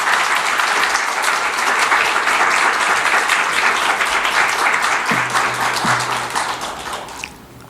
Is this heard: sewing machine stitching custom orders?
no